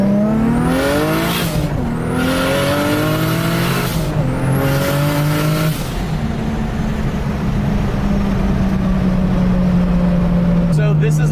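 A 1JZ turbo-swapped Datsun 280Z running straight E85 pulls hard in first gear, its loud engine note climbing in three rising sweeps punctuated by shifts, then settling into a sustained roar close to the microphone.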